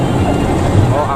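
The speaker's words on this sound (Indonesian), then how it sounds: "Ini menggunakan mesin Dino AK." An old Dino AK engine drones inside a moving Cirebon intercity bus on the Pantura road, a loud, steady low rumble mixed with wind noise, with a voice talking over it.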